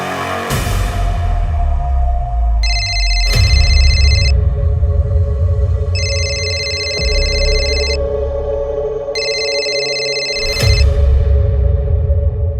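An electronic telephone rings in three repeated bursts of bright trilling tones over a steady low room hum, loud and close, with sharp transient clicks between rings.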